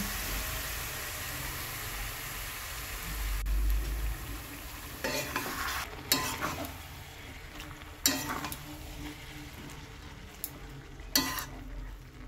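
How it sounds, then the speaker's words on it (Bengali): Half-boiled cabbage is stirred with spices in a pan, giving a soft continuous sizzle with several sharp scraping clatters of a spoon against the pan, close and moderately loud. "তো সবজিটা দিয়ে ভালো করে মশলার সঙ্গে নেড়ে নেব"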